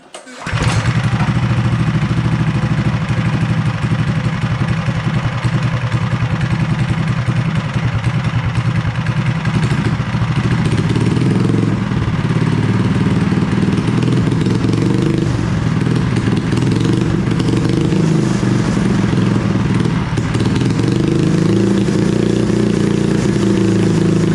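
A custom-built Mega Moto motorcycle with oversized forks and swingarm starts on choke and settles into a loud, steady idle that runs throughout, its pitch rising and falling slightly with small throttle blips, close up and without talk.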